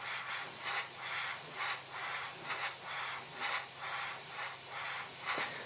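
A Mr.Hobby PS-268 Procon Boy SQ single-action airbrush with a 4mm nozzle sprays paint in a steady, faint hiss that swells in soft rhythmic pulses, alone and with no talking.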